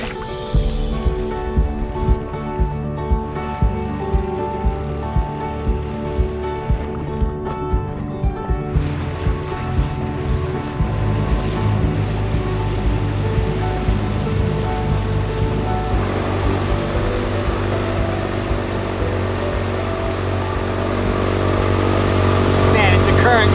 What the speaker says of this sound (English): So much current, I'm throwing a huge wake.